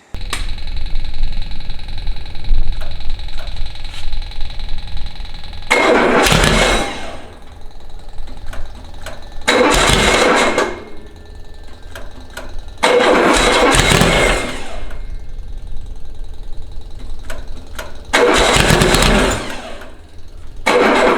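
A freshly built 2276cc VW dune buggy engine cranks loud and close in four separate bursts of a few seconds each, churning rhythmically but not catching, with quieter pauses between attempts.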